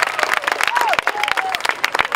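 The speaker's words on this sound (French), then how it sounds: "On applaudit pour ça, s'il vous plaît." An audience at a public event in Katiola claps in a scattered burst of applause with crowd murmur, while voices talk over the sharp, uneven handclaps.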